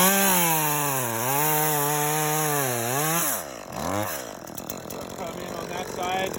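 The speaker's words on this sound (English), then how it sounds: "it's really dangerous to be trying to hold on to a piece like this while I'm using my chainsaw with one hand" A chainsaw makes a snap cut through a piece of red maple held with one hand. A loud, close engine drone rises and dips in pitch over the first three seconds, then gives way to rougher cutting noise.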